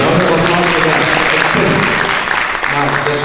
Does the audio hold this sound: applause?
yes